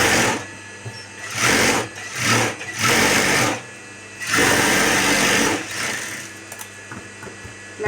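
Sewing machine stitching a blouse with lining fabric attached, running in loud bursts of rapid needle whirring with brief pauses between runs.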